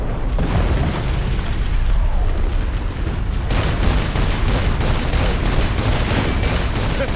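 Explosion in the video game Saints Row 4, a dense rumbling boom with crackling gunfire-like bursts running continuously at close, loud level, with a sharper burst of blasts about halfway through.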